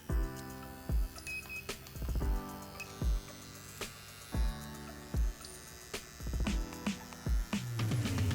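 A micropigmentation machine with a traditional needle tip hums steadily once switched on, joined by regular, evenly spaced clicking pulses roughly once a second and faint electronic whine, close and quiet with no talk.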